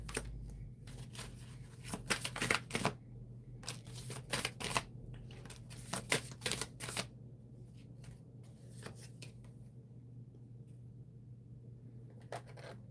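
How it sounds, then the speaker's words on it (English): Tarot cards being shuffled and drawn from the deck, giving soft papery riffles and flicks in clustered bursts that thin out into occasional single snaps, quiet and close in a still room. "I'm going to pull out 6 cards."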